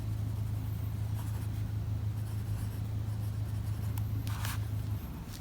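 An Airmail 71J eyedropper fountain pen, filled with Lamy blue ink, scratches softly across paper in continuous strokes beneath a low steady hum, with a few brief louder scrapes near the end.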